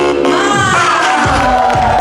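A crowd cheers and shouts at the Ricoma Decco Summit opening ceremony, loud and sustained, with whoops and yells layered over booming low sound.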